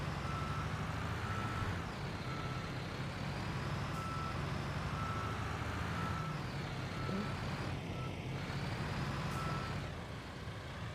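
A truck in Construction Simulator on PS5 backs up at a housing estate roadwork site, its reversing alarm beeping in a steady repeated pattern over a constant engine drone, moderately loud.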